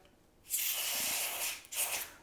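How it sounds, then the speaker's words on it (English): A cold aerosol spray hisses onto chocolate to set it, in a sustained burst for over a second, then a second shorter spritz follows, close and fairly loud. "a little bit of cold spray to make sure my chocolate is set"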